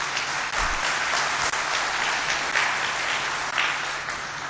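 Audience applause at an accounting profession conference in Lahore, a sustained, dense wash of many hands clapping in a hall, steady and moderately loud throughout without any speech.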